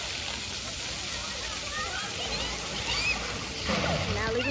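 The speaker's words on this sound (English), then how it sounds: "Now leaving the splash pad" Water sprays and splashes continuously at a splash pad, producing a dense, even hiss of spattering water with faint voices mixed into the background.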